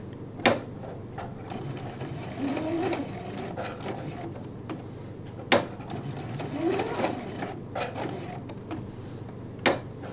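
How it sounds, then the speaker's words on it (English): A home sewing machine runs in steady bursts while stitching a tight curve, its rapid mechanical whir broken by short pauses and sharp clicks as the needle is set down and the presser foot is tapped. "sew a few stitches"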